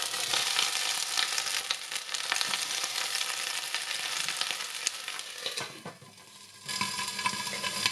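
Garlic sizzles steadily in hot oil in a cooking pot, a bright continuous frying crackle. It briefly drops away before the sizzle returns strongly.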